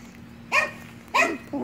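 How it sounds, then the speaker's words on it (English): An old chihuahua barks in short, sharp yaps indoors, three quick barks roughly half a second apart, close and clear with no talking over them. "Here's Dolly barking at nothing again, that old lady."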